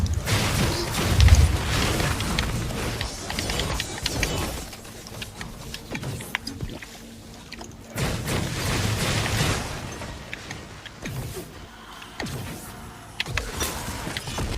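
Lightning spell explosions crackle and burst in the action role-playing game Wolcen, a dense stream of sharp zaps and booms over a rumbling game soundtrack, with surges of clustered blasts and short, quieter lulls.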